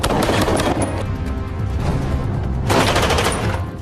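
Loud, dense bursts of gunfire crackle rapidly in overlapping flurries, with a heavy barrage at the start and another near the end.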